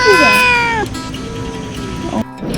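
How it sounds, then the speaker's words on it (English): A cat meows at a resort in Mexico: one long, loud, drawn-out meow falling in pitch, followed by a softer, shorter cry against quiet background noise. "Oh, sad cat. Sad cat."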